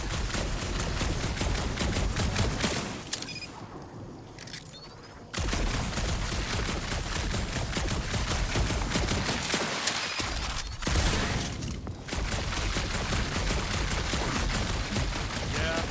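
Rapid bursts of gunfire in Marvel's Guardians of the Galaxy, a dense, loud fusillade of shots that drops out briefly twice before resuming at full intensity.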